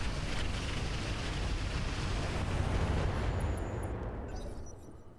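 Mech weapons firing in the video game Roguetech, a dense, loud booming roar of sustained fire that rumbles for several seconds before fading out, with no talk.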